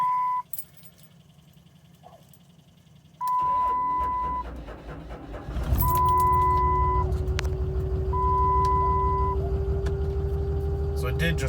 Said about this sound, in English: So let's crank it up and see what you think.